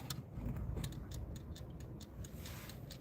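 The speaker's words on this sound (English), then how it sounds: "Hear it ticking. It's like a kitchen timer." A lighthouse-shaped wind-up kitchen timer ticks in a quick, steady rhythm, faint and close over a low room hum, with no talking.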